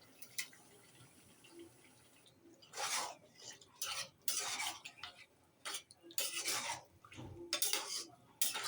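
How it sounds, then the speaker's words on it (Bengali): A utensil stirs and scrapes chicken with bottle gourd in a pan during sautéing, giving irregular bursts of clatter and scraping with short quiet gaps; no one talks. "এখন কষানো হোক।"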